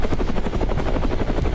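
A helicopter rising fast, used as a sound effect in a Hindi audio horror story, with loud, close, steady rotor thumping and engine roar throughout.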